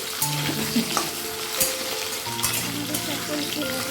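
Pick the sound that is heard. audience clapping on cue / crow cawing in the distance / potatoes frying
potatoes frying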